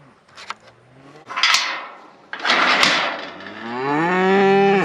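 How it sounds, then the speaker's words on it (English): Cattle at a pasture moo several times, and the calls come close and loud, the last one long and drawn out, with some faint knocking before them. "let's see what the cows think about it"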